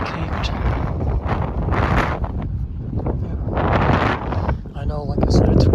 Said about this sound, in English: I know, like I said, it's windy